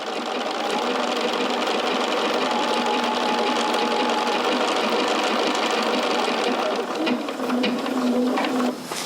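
A sewing machine runs continuously and loudly up close, stitching forward and backward on fabric, with a dense mechanical whir and rapid needle rhythm that shifts slightly near the end.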